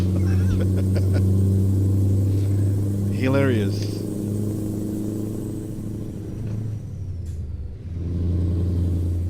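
A person vocally imitates a Scania V8 truck with straight pipes, rumbling engine, rising turbo whine and hissing air brakes, loud and close; another voice speaks briefly.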